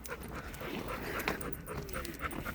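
A dog outdoors in a quiet area, heard close with continuous panting and soft whimpering sounds, no barking, alone without talk.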